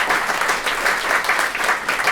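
Loud, dense applause from a large crowd, continuous and even throughout with no voices on top.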